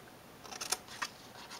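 Cardstock being cut in half with a paper trimmer or scissors, a short series of soft dry snips and slices close by, quiet and with no talk.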